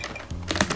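Brief burst of typing on a white Logitech G915 TKL tactile mechanical keyboard, several sharp, close keystrokes clustered in the second half after a softer start.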